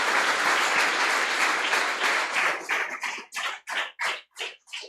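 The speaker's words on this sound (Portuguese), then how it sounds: "Você pode aplaudir o Senhor?" Church congregation applauds during a Sunday celebration service, sustained dense clapping that thins out after about three seconds into a handful of separate claps before stopping.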